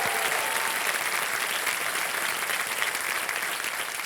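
Studio audience applause on the KBC Under 25 quiz show set; a thick, continuous wash of many hands clapping at even strength, loud and unbroken for several seconds.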